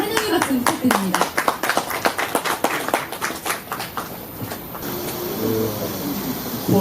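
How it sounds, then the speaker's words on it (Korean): Audience applause welcoming a guest speaker, the chairman of a company, at a Korean corporate commemorative ceremony: dense rapid clapping fills the first five seconds and then fades under a voice. "여러분 환영의 박수 부탁드립니다"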